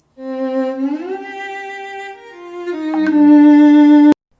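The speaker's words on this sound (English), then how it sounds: "And you gotta get that solo violin in." Solo violin for a Kingdom Hearts style battle theme, a single bowed line sliding up into a sustained note, then stepping to a louder held note before stopping abruptly, close and alone.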